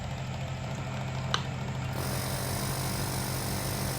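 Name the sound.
refrigerator compressor switched on and running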